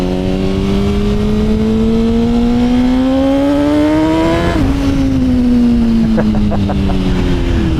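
A Suzuki GSXR 1000 motorcycle engine accelerates hard, its loud, close whine climbing steadily in pitch, dropping at a gear change, then pulling upward again amid strong wind rush.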